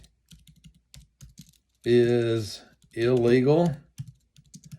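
Computer keyboard typing, soft rapid key taps heard close around a man's speech in the middle.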